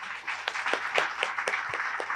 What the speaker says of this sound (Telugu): ప్లీజ్ ఒకసారి గట్టిగా క్లాప్ చేద్దాం